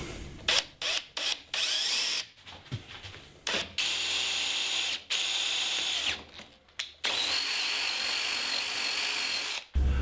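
A power drill with a brad point bit whirs loudly and close by in repeated stop-start bursts, drilling into turned wood, each run cut off by short pauses.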